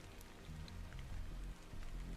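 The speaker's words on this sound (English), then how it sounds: "This must be Earth's rain." Steady rain pours in the video game Stellar Blade, a continuous broadband patter of drops on surfaces with a low rumbling undertone, fairly loud and unbroken throughout, with a few brighter individual drip taps and no voices.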